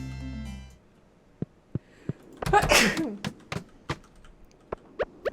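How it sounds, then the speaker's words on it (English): One loud, sharp sneeze bursts out after a brief tone, followed by scattered soft clicks and taps like keyboard typing. "I'm going to sneeze and I apologize"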